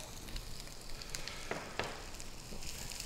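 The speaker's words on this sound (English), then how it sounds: "We're just going to let those saute, sweat down just a little bit." Onions sauté in olive oil in a heavy pot, a soft, continuous sizzle with a few brief crackles and spatters rising out of it.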